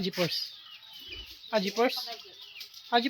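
Backyard chickens cluck in short bursts close by, with people talking around them.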